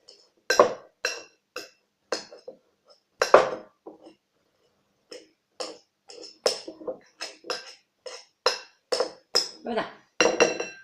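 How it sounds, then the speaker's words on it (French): Hard-boiled egg yolks are pressed and crumbled with a utensil against a dish, making a series of short, sharp clinks and scrapes in irregular bursts, close and fairly loud, with quiet gaps between. "Il faut bien insister à appuyer pour émietter justement les jaunes d'œufs"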